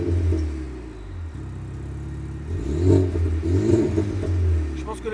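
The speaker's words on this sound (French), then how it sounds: "le son de la voiture, il est pas chiant" Renault Megane RS 400+ engine revving, a deep throaty rumble that swells and eases in waves, with a cat-back exhaust and a voice talking over it at times.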